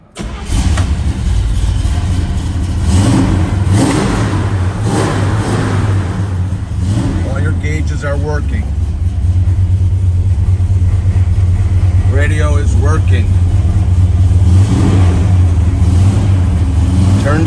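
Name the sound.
1964 Chevrolet Chevelle Malibu engine starting and revving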